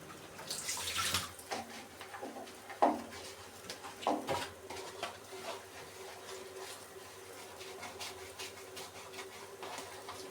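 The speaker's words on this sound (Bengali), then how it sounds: "এই তো কিছু বাসন রাত্রে বের হয়ে গিয়েছিল, এখন ধুয়ে নিব।" Dishes washed under running water from a tap, faint and close, with soft splashing, a few light clinks of crockery, and a steady trickle throughout.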